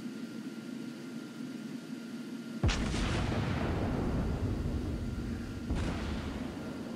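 Dive bomber bombs hit in World of Warships Blitz naval combat, heard as a loud sudden blast that rumbles on, then a second, smaller impact a few seconds later, over a steady game background drone.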